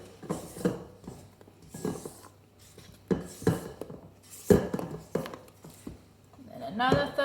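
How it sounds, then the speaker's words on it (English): A spatula folds batter in a mixing bowl with repeated scraping, clinking strokes against the bowl at an irregular rhythm, close and moderate in level, with a voice briefly heard near the end. "with my spatula, I'm just folding it in"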